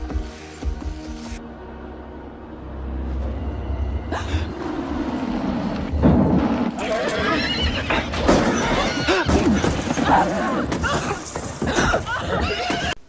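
A horse neighs loudly in a long, shrill whinny, followed by snorts and clattering hooves amid dramatic, busy background noise.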